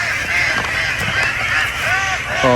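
Ducks on a free-range duck farm honk and quack continuously as a dense, close flock, the calls overlapping steadily throughout.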